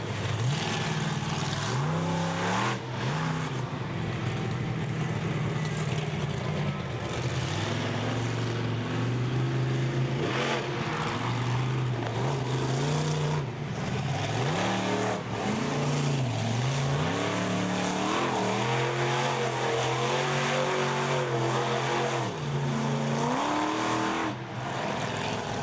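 The General Tire monster truck's engine roars loud and steady for a long stretch at an Indianapolis monster truck drag event, its pitch rising and falling as it revs without pause.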